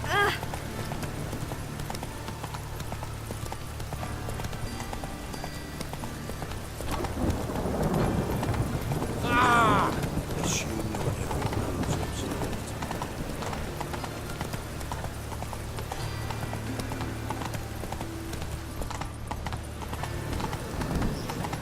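Horse hooves clip-clopping at a gallop in The Witcher 3, a steady rapid rhythm of hoofbeats with rain and rumbling weather in the background and a whinny midway.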